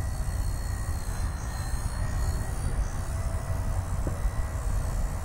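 A Blade Nano S3 RC helicopter flies a circle in idle-up mode, its motor and rotor giving a steady, continuous whir with a high whine throughout and no pauses.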